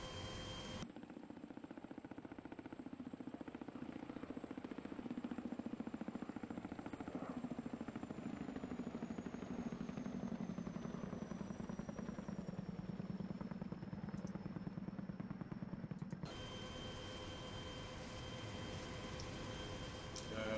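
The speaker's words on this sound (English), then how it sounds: "Let's get a little flyby." A light training aircraft drones past on a pilotage navigation flight, its engine a steady, loud, rough hum that holds for most of the clip and then shifts abruptly in tone near the end, with no talking.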